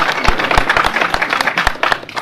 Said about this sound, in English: a clap for that.